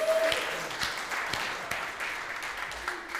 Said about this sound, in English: How about a round of applause for that band?